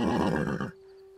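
A horse on a ranch, being hitched to a wagon, gives one loud, close whinny that breaks off abruptly after under a second, leaving a faint steady hum.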